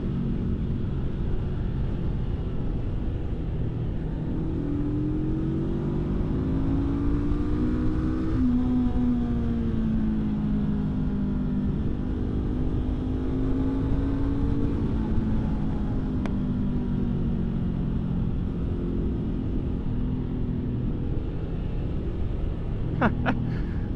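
A 2023 Honda SCL500 motorcycle rides along with a steady, loud engine drone and rumble, its pitch rising and falling as the throttle changes over rough ground.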